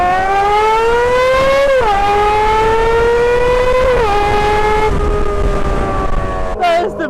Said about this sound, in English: It's still a great sounding motorcycle, very beautiful, very fun.